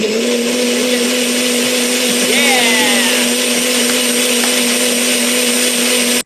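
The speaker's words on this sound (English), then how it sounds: "That's the blender." A blender runs loud and steady throughout, its motor whine continuous at a live comedy show, with a brief spoken word over it.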